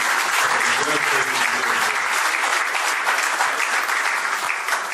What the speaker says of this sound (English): Please give a round of applause to this wonderful organization.